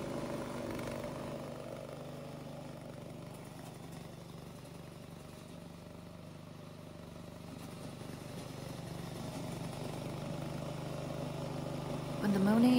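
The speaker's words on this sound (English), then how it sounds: "press this button to start the engine" A brushless-motor remote-controlled mowing tank starting up, its engine running with a steady moderate hum that rises slightly toward the end.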